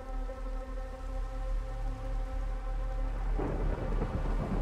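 Thunderstorm in the Minecraft Create mod game: steady heavy rain hiss with a low continuous rumble, swelling into a loud thunder crash near the end.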